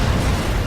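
An enemy aircraft blowing up in the Ace Combat 7 combat flight game, a loud, dense burst of rumbling blast noise that fills the short moment without letup.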